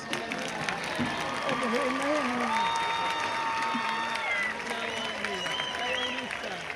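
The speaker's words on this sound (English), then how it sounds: "let's all give our seniors a big round of applause" Crowd of fans, family and friends applauding Morehead seniors at a high school football game, clapping and cheering under an announcer and other voices talking over the noise.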